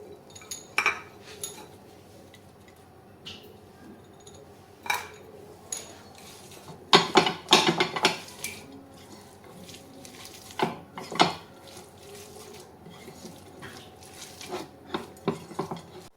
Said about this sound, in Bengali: শুকনো লঙ্কাগুলোকে ভালো করে গুঁড়ো করে নেব রসুনগুলোকে ভালো করে আমি পেঁয়াজের সাথে মিশিয়ে নেব